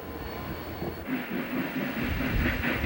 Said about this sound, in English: The diesel will bring the rest of the cars up the main